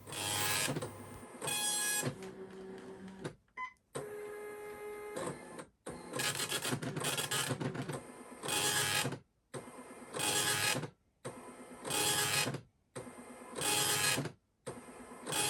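A Brother Pattern Programming Device (PPD-110/120) prints a knitting pattern in repeated mechanical bursts, each a few seconds of whirring and clattering separated by short pauses, loud and close with no voices.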